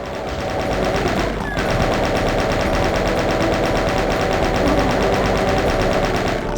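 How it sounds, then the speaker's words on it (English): A chain gun fires in the game Doom II, a loud, continuous rapid-fire rattle of shots running the whole time with barely a pause. "I'll chain gun this guy here, and yeah, I think I'll go this way, and then chain gun these guys"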